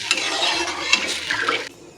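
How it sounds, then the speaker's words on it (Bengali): Water poured into a pan of pumpkin and potato curry, a steady close splashing and sloshing rush that runs for most of the moment and then cuts off, with no talking. "জল দিয়ে দিলাম"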